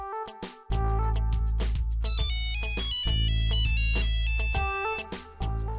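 A mobile phone's melodic ringtone plays loudly and continuously at home, a bright repeating tune over a steady electronic bass pulse, with no talking over it.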